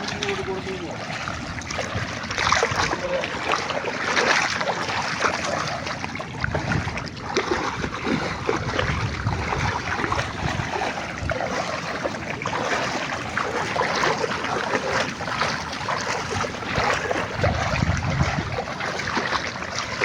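Boat moving along the sea near the shore, with continuous water wash and lapping plus engine rumble, mid-distance, a voice talking intermittently over it.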